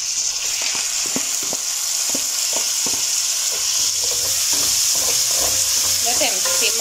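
Tomatoes and three large garlic cloves simmer with translucent onions in a pan, giving a steady close sizzling hiss broken by frequent small pops and scraping stirs.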